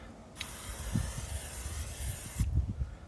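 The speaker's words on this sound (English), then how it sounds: "What I'm going to do is spray it down." A can of cooking spray hisses in one steady burst lasting about two seconds into a hot cake pan at a campsite, close by, with soft clicks at its start and end.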